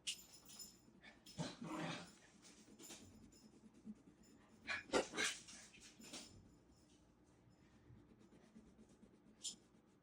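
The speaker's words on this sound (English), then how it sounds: "that's the sound of dogs playing in the background" Dogs scuffle and growl at a distance in playful bursts, with a few short yelps and whimpers, set behind quiet scratching.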